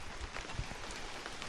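Steady rain patters on surfaces outside a house under renovation, a dense even hiss with scattered louder drops and no voices.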